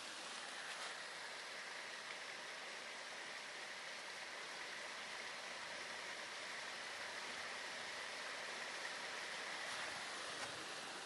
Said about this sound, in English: There's a nice sound of water again.